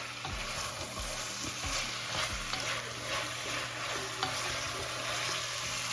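Vegetables for a chicken pot pie sauté in a pan, a steady broadband sizzle with soft scraping and stirring knocks spread through, close and continuous with no talk.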